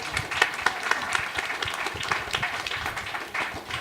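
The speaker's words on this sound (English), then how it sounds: "Another round of applause is a good way to end the day." Audience applause at the end of a talk on ethics in industry, a steady wash of many hands clapping at moderate distance, continuous for a few seconds with no speech over it.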